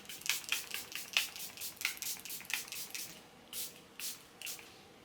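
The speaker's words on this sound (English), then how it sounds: "To set everything in place, I'm using the Charlotte Tilbury Airbrush Flawless Setting Spray." Charlotte Tilbury Airbrush Flawless Setting Spray goes off in quick, close, hissing pumps, about a dozen short bursts in an uneven rhythm, faint and with nothing else heard.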